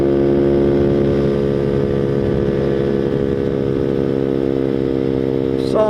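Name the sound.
grom clone Boom Vader motorcycle riding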